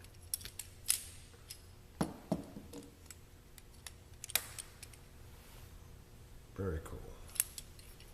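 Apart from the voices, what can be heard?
flipper knife flipping open and clacking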